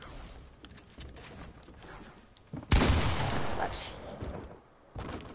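Gunfire from an online shooter video game bursts out loud in a sudden volley midway, sustained for over a second before easing, with quieter game noise and occasional shots around it.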